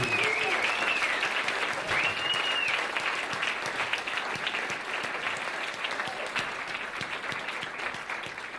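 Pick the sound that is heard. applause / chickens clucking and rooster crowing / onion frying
applause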